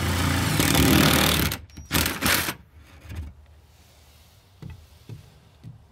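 An impact driver spins a 1.5 inch spade bit through plywood, a loud grinding burst for about a second and a half, then a few short, weaker bursts and knocks as the bit breaks through.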